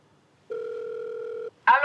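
A phone rings with an incoming video call: one steady electronic tone lasting about a second, clear and close in a quiet room, followed at once by a voice starting to speak.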